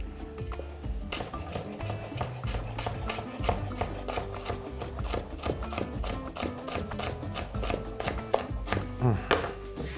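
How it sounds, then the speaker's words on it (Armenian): A knife chops chili pepper on a cutting board in rapid, steady taps that continue throughout, with a low hum underneath. "Մաքրենք տախտակը և կտրատենք չիլի պղպեղ։"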